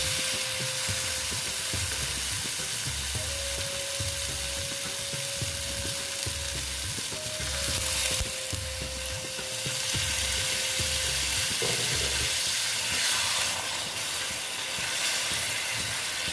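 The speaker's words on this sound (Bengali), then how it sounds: "এখন আমি এখানে একটু জল দিয়ে দেবো" Pointed gourd curry sizzles steadily in a pan, a continuous broad frying hiss with a faint steady tone and light rhythmic scraping throughout, close and fairly loud, no speech.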